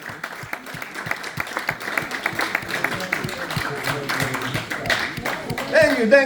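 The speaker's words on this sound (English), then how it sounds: "If you're gonna clap, now is the moment!" An audience at a magic show claps in a sustained burst of applause that builds, with scattered cheering and voices rising toward the end.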